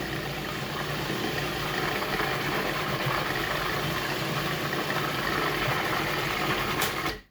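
A machine grinds hazelnuts into hazelnut butter with a loud, steady, close whirring drone that runs unbroken until it cuts off abruptly at the end.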